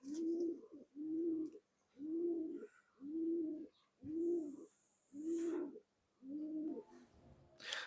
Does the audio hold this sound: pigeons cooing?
yes